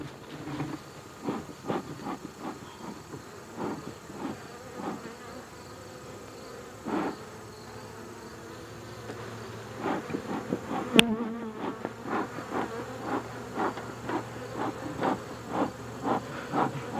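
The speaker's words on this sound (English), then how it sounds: "These bees are not going down." Bees swarm around a hive as it is being moved, a steady close buzzing that drones throughout with individual bees zipping past and a sharp knock partway through.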